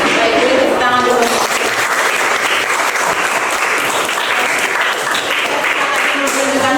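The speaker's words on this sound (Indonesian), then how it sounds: "jadi tepuk tangan dulu" Dense, continuous applause from a classroom audience at a school teaching practice session, a sustained wash of many hands clapping at once, with faint voices mixed in.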